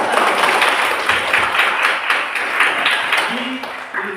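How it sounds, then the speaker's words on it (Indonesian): Students in a junior high school classroom clap together, a steady burst of hand claps close by that tapers off near the end, with a brief tonal ping at the finish. "kita tepukkan lagi, mari tepukkan"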